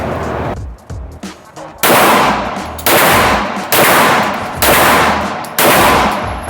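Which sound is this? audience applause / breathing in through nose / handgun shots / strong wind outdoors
handgun shots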